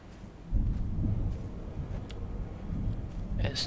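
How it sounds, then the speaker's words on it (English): Thunder rumbling from an approaching storm on a beach in the video game Dear Esther, a low rolling boom that swells and lingers under faint rain-like patter. "A storm is approaching."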